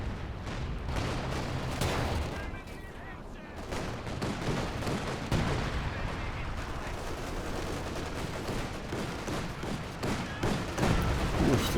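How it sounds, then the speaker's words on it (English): Heavy artillery from a howitzer in the strategy game Company of Heroes 2, with repeated booming blasts and dense battlefield gunfire filling a loud, continuous mix. "Oof, this howitzer, man."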